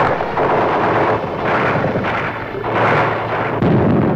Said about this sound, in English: Gunfire roared in the streets and panic spread throughout the population.